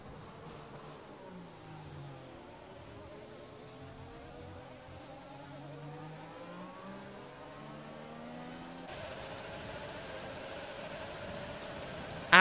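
F1 race car engines, a Ferrari and a Mercedes power unit, rev and whine through gear changes in an Xbox racing game at the Japanese Grand Prix, steady and continuous with rising and falling pitch, no talk.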